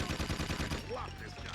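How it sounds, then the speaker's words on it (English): The yellow gun in the video game Jak II fires in a quick, steady string of shots for under a second, then the sound fades into a short tail with game effects. "just spam the yellow gun"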